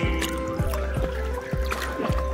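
A person swims in water at Lalbandi, Sarlahi, with regular splashing strokes roughly every half second, close and fairly loud over a watery background.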